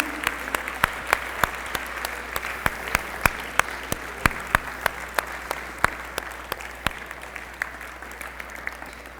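A church congregation applauding, heard as sharp, distinct claps spread across a roomy hall, sparse and uneven rather than a dense roar, holding steady throughout.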